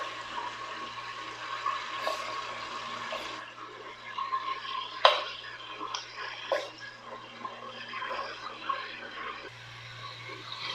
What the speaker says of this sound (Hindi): हमारा ऑयल गरम हो गया है। अब हम गोश्त डालेंगे।